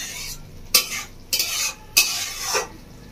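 Fried pointed gourd (potol) stirred gently in a pan for a Bengali doi potol, with three sharp spoon scrapes against the metal at regular intervals over a soft, steady sizzle. Nobody speaks.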